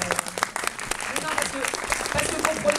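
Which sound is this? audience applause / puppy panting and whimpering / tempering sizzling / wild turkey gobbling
audience applause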